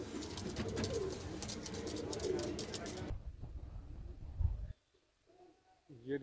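Pigeons of a breed kept for sale coo close by in soft, repeated rolling calls, with someone talking over them before things go quieter.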